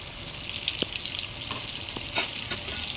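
Cumin seeds and onions fry in butter and oil in a pan, giving a continuous close sizzle with soft stirring scrapes and a few sharper crackles, and no voices.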